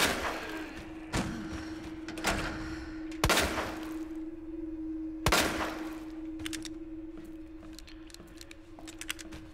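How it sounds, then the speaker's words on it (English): Gunshots fired in the Resident Evil 2 video game, several loud sharp bangs at uneven intervals over a steady low hum, with smaller clicks and thuds between them. "How many times do I gotta shoot your ass?"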